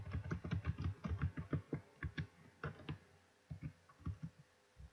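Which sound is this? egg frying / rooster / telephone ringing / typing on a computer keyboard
typing on a computer keyboard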